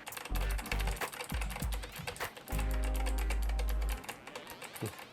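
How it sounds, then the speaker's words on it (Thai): Rapid, sharp clacking of a Signo E-Sport KB-770 mechanical keyboard with clicky blue optical switches being typed on nearby, each keystroke crisp and distinct over a low rumble. "เป็น Blue Optical Switch นะ เสียงจะลั่นๆหน่อยนะ"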